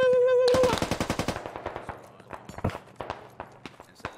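Rapid automatic gunfire in the military shooter game Squad, a dense burst of shots up front that thins into scattered single and paired shots, with a tonal beep at the start and faint voices in the background.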